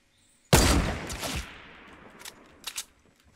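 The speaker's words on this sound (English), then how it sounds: "Where is he shooting from?" A sudden loud burst of gunfire in the video game Fortnite, a sharp initial blast trailing off, followed by a couple of fainter distant shots.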